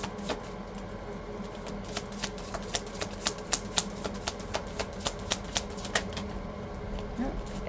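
Tarot cards being shuffled, a rapid series of soft crisp riffling clicks rising and fading over a quiet room tone, with a voice speaking faintly.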